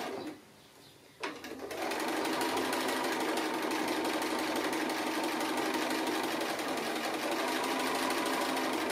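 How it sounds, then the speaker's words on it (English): A sewing machine stitching appliqué runs in a fast, steady mechanical whir after a brief quiet start, loud and close with no talking. "Like drawing with your sewing machine to do these sorts of things."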